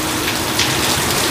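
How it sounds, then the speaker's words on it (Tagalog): Heavy rain pours down steadily, a dense and loud hiss of drops drumming on a surface, with no break across the short stretch. "Malakas kasi ang ulan."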